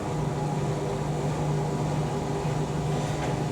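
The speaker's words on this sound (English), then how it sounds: "Yeah, dryer fan's on." A Zanussi Lindo 1000 ZWD71463NW washer dryer runs its dryer fan on a timed drying cycle, giving a steady whooshing airflow over a low motor hum, close and unchanging throughout.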